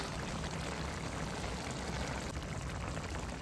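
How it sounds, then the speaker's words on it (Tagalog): Vinegar pours into a simmering pot of dinuguan, a faint steady watery trickle blending into low bubbling, heard close and without talk. "Lalagyan ko na siya ng vinegar."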